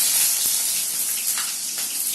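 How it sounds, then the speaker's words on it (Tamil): Fenugreek seeds frying in hot oil for a Tamil vendhaya kulambu give a loud, steady, hissing sizzle that runs unbroken throughout. "அந்த வெந்தயம் வந்து நல்லா பொரியுது பாருங்கள் எண்ணெயில்"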